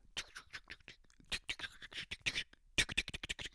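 Squirrels scurry in the ceiling above an office, making quick irregular scratching and pattering bursts, faint and close, with no one talking.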